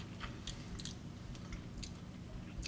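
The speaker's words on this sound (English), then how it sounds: "There's a lovely crunch from the nuts as well, from the pecans even." Someone chews a bite of chilli chocolate bar studded with pecans, giving soft crunchy, squishy mastication sounds in a steady run, close and quiet with no talking.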